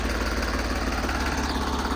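A New Holland 3630 tractor engine idles close by, a steady low diesel rumble with even pulsing and no change in pace over the short stretch.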